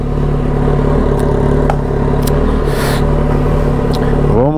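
A 2011 Kawasaki ZX-14 motorcycle with a full 2.5-inch Atalla stainless-steel exhaust runs loud and close as a steady, deep droning hum, with a rising rev near the end.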